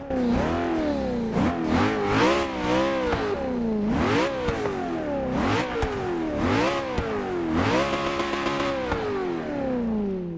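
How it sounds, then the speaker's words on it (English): A Koenigsegg One:1 with a turbocharged 5-litre V8 in the racing game Forza 6, revving up repeatedly in rising and falling sweeps, loud and close, with gear changes between climbs and a brief steady hold near the end. "you can hear the turbocharger off of that 5-litre V8 engine"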